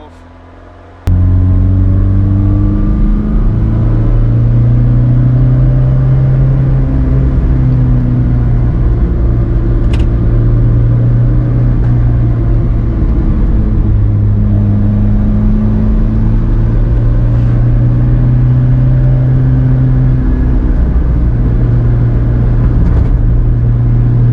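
A 1975 Lancia Beta Montecarlo Spider with a 120-horsepower engine starts loud and close, then drones steadily under load as its engine pitch rises and falls through the gears for most of the run.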